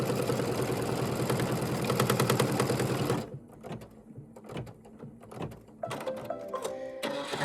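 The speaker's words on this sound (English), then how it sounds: "So I'm going to stitch this and then trim close to the stitch line." A Kimberbell embroidery sewing machine stitches a design in a fast, steady mechanical whir for about three seconds, then stops, leaving quieter clicks and small handling sounds.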